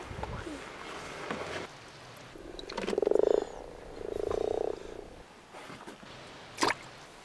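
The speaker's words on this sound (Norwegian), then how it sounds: "Til høsten slipper Konstanse stålormene og padden tilbake til naturen" A captive toad kept outdoors gives two short, low croaking bursts in the middle of a quiet, slightly hissy outdoor background, followed later by a brief sharp click.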